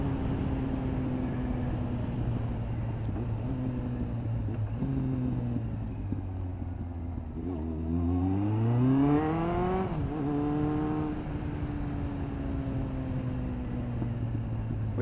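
A Kawasaki ZX-9R motorcycle engine pulls steadily through low revs, then climbs sharply in pitch to a high rev near the middle before easing back to a steady drone.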